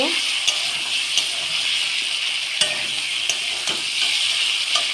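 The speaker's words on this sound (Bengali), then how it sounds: "সেটা দিয়ে দেব। দিয়ে এটা দিয়ে একটু ভালো করে কষিয়ে নেব।" Fried pointed gourd sautéed with masala in oil, a bright steady sizzle close by, broken by brief spatula taps and scrapes at irregular intervals.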